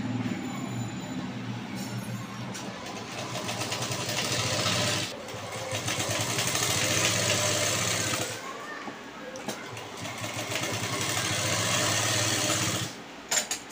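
A sewing machine stitching piping onto a blouse lining, running in sustained bursts with a few short pauses between runs, close and fairly loud with no talk over it.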